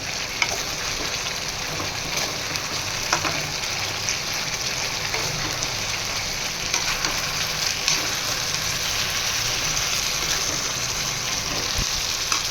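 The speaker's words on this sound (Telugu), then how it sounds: "చూడండి, ఇప్పుడు కలుపుతున్నాను." Chilli-spiced food fries in a pan while being stirred, with a loud, continuous close sizzle and occasional scraping strokes throughout.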